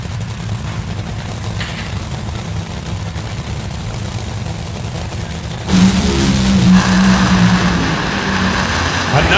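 Top Fuel dragsters roar down a drag strip as a loud, steady engine drone, with a sudden surge of harsher, brighter noise about halfway through as the cars pass close.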